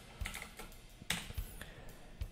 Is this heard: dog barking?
no